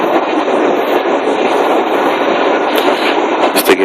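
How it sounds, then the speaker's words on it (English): A subway train rides along the tracks with a continuous loud roar and rattle from inside the car, steady throughout with a few brief clanks near the end. "On the train right now."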